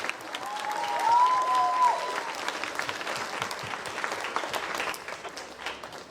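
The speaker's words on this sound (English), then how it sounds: "One big round of applause for all of you." Audience applause greeting a speech at a morning gathering, a steady moderate wash of many hands clapping for several seconds, fairly distant, with a brief whistle-like tone early on.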